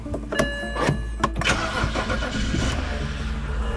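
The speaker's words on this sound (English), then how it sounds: "That jumper cable start the car" A car engine cranking after a jump start with jumper cables, several quick starter clicks and turnovers catching and settling into a steady, close idle that holds and slightly rises toward the end.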